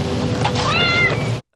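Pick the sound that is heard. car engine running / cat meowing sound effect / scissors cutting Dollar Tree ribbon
cat meowing sound effect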